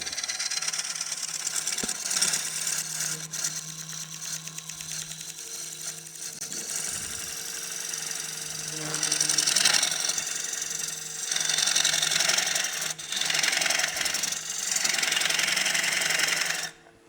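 A wood lathe spins a workpiece glued into chuck jaws during production turning, giving a steady mechanical whir with ratcheting, rattling tool contact that swells and eases in passes, loud and close with no talking.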